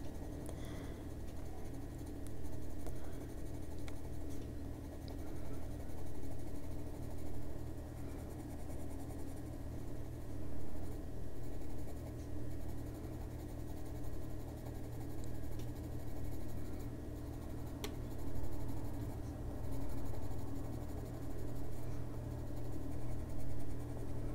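Colored pencil scratching steadily across paper while filling in a bee coloring page, a continuous close, soft writing rasp with constant strokes running throughout.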